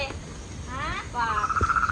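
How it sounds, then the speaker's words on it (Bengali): Frogs croak near a river while fishing, the calls building from scattered rasps into a steady pulsing trill by the end, fairly close and moderately loud. "ব্যাঙে এত ডাকছে"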